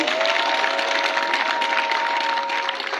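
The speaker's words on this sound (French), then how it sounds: "Applaudissez pour vous-même." Crowd applause with some cheering, a thick steady wash of clapping that carries on for three seconds alongside a sustained tonal hum, with no talk over it.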